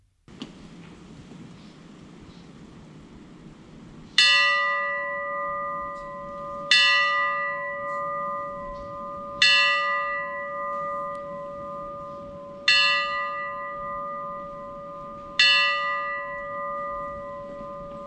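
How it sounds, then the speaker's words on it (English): Church bells hanging in the corner of the square on Pitcairn Island ring out in five loud, clear strikes spaced a few seconds apart. Each strike rings on and decays slowly over a faint outdoor hush. "the bells hanging in the corner of the square"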